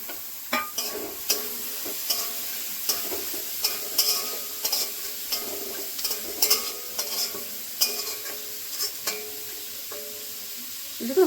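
Capsicum, tomato, carrot and beans fry together in a pan while being stirred, giving a soft sizzle under regular scraping strokes of a spatula, each stroke a distinct close scrape, and no voices.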